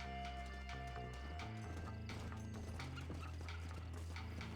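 Rhythmic clip-clop of horse hooves over a dense bed of game music, steady and continuous throughout, in Red Dead Redemption.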